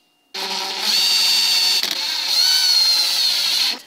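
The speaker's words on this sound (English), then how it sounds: "We drop these in and we screw them in place." A power driver running screws into an alternator bracket during a Toyota 4AGE 20V to 16V alternator swap: a loud, close, steady whine lasting about three seconds with a brief dip partway through.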